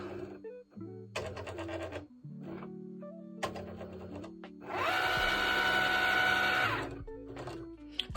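A Cricut machine die cutting a sheet of bottle labels, with intermittent short motorized whirs and clicks as the carriage moves, then a longer louder buzzing run near the end.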